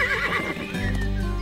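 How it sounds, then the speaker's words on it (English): A Freiberger horse, an old Swiss breed, whinnies loudly and close in the Jura Mountains, a wavering high neigh that drops into a lower snorting rumble at the end. "This region is home to an old Swiss horse breed,"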